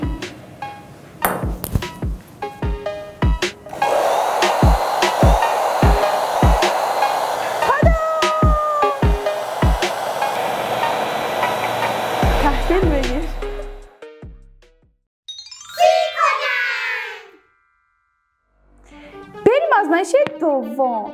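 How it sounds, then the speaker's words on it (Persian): A hair dryer blows a steady, loud rush of air upward to keep a ball floating during a home science experiment. The whoosh runs for about eight seconds with a few sharp clicks, and a voice speaks before and after. "سشوار"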